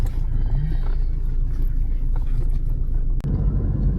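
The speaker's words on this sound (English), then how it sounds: "Traffic, heavy traffic." Heavy two-way road traffic in Angeles City, Philippines, a steady low rumble of engines heard close up from inside a vehicle, with no voices.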